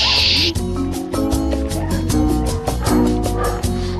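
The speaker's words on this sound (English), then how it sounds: "But the bark is different." Dog barking and yipping in repeated quick bursts, loud and close, mixed with whimpering tones and some background music.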